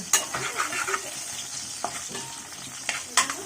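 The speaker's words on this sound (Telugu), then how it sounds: "పచ్చిమిర్చి బాగా ఆగాలండి." Green chillies sizzle steadily in a hot pan for a seafood crab curry, with a few sharp scraping stirs of a utensil cutting through the constant hiss; no one speaks.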